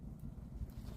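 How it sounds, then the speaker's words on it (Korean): Strong wind buffets a cold campsite, a brief low rushing roar with gusty rumbling against the microphone. "뭐 바람이 이렇게 세냐고."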